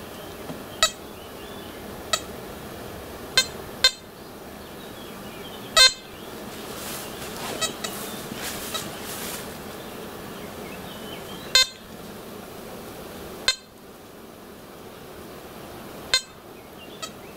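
An XP Deus metal detector with a 28 cm DD coil sweeping over a 15 mm coin buried 20 cm deep gives short, sharp beeps at irregular intervals over low background hiss, sounding on some passes and missing others.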